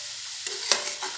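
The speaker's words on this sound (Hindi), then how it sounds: "और फिर इसको अच्छे से मिक्स करके" Fried taro pieces being stirred into boiling spices in a kadhai, with soft scraping strokes and a faint sizzle, close and brief, no talk.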